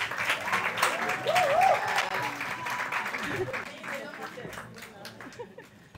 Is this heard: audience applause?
yes